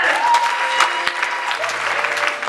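A church congregation claps and cheers in a short, dense burst of applause, steady and fairly loud throughout.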